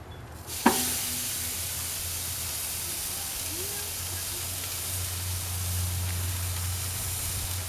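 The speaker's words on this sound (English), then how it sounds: "A moment of silence for that sizzling." Loud continuous sizzling hiss of a salt-and-pepper T-bone steak searing on a hot grill, starting suddenly and holding steady, close up, with brief low murmurs.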